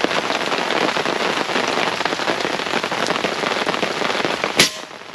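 Heavy rain pours down outdoors during airgun target shooting, a dense loud patter of drops throughout, with a single sharp crack near the end followed by a brief quieter stretch.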